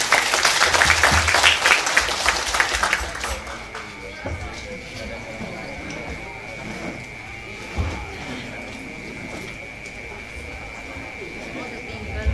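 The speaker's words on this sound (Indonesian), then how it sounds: "Monggo sedaya kumpul dan tangan tepuk tangan." An audience at a wayang golek puppet show by dalang Ki Teguh Polisi claps together for about three seconds, then the clapping stops, leaving a quieter room with a steady hum and scattered small noises.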